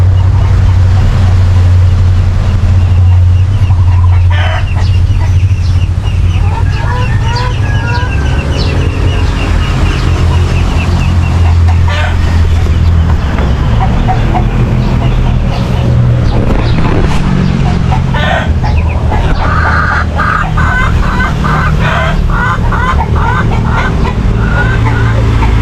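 Black Australorp hens and a rooster in a backyard flock give scattered clucks and calls over a loud, continuous rumbling background noise throughout.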